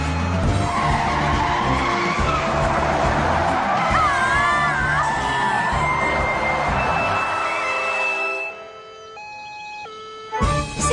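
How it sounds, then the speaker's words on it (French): A cartoon bus braking hard with tires skidding, a loud long screech with wavering squeals over rumbling engine noise, ending in quieter tones. "Julie, appuie à fond sur la pédale de frein."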